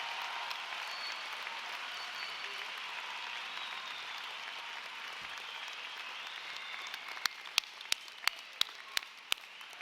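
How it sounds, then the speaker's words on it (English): A large crowd at a university graduate commencement applauds graduates, a faint, distant, sustained wash of clapping across a big space, with several sharp, closer claps standing out near the end. "one more round of applause for every graduate"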